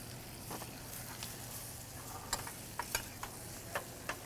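Beets being stirred in butter in a pan give a soft, low sizzle with scattered light scraping clicks from the utensil, fairly quiet and close, with no talk.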